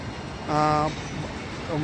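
A Pune Metro train rumbles along its curving track toward Hinjawadi under a steady background roar, with a brief tonal whine rising and fading in the middle.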